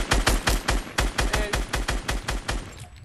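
Rapid sustained automatic gunfire in a video game shootout, a steady loud stream of shots at an even fast rhythm for about three seconds before cutting off.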